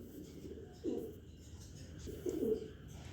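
A white Lahori pigeon coos nearby in two soft, low bursts with a quiet pause between them.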